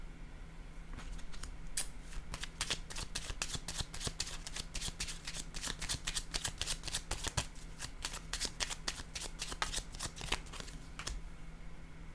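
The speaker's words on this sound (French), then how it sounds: "Je vais déposer une carte sur l'invitation." Tarot cards are handled and laid down on a table in a quiet room. Close, crisp snaps and papery rustles come in quick bursts over a faint steady hum, with no talk.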